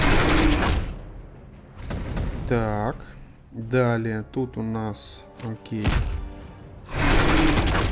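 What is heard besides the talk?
gunfire in a video game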